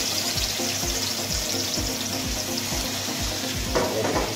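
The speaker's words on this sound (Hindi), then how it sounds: "फिर एक चिकन के पीस को हम इस तरीके से इसमें पैन में डाल देंगे" A chicken piece sizzles and fries in hot ghee in a pan, a steady loud crackling hiss with rhythmic low thumps of stirring or pressing throughout, no voices.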